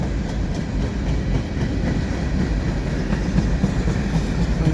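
A long eastbound CN freight train rumbles steadily past nearby beneath the Dorval ramps, deep continuous roar with faint rhythmic clacking of wheels over rail joints, no voices.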